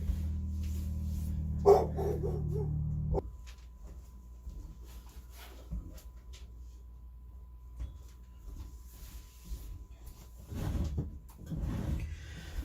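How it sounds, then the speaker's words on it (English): A dog barks intermittently at a distance in a quiet room, after a low humming machine cuts off; the barks are faint and scattered. "the dog is barking at the UPS guy"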